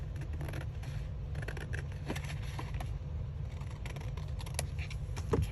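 Scissors snipping through folded paper while making envelopes for a 6x6 paper folio, a run of close, crisp cuts and small paper rustles over a steady low hum.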